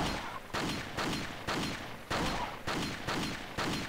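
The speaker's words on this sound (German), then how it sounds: "Ach man, mache ich das mit der Pistole halt." Pistol fire in the video game Resident Evil 4: about seven sharp gunshots spaced roughly half a second apart, each with a short decaying tail, loud and without talk.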